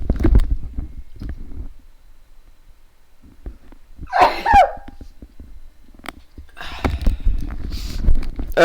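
A person sneezes once, a single loud burst midway through, set between stretches of quiet and scattered shuffling noises.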